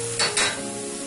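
Tahini sauce hitting a hot pot of spicy Lebanese red snapper and sizzling as it deglazes, a brief close hiss with two quick stirring swells.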